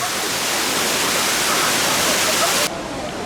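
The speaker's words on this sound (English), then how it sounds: "Oh, that is quite the waterfall." Waterfall at the Rattlesnake Rapids ride in Lagoon amusement park pours in a dense, loud steady rush that drops off abruptly near the end, with a voice talking over it.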